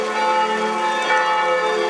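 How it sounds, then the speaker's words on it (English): Church bells ring out across Prague during a national minute's silence, a steady, sustained peal of overlapping tones that fills the air continuously with no voices. "Across the Czech Republic, a minute's silence was broken only by bells"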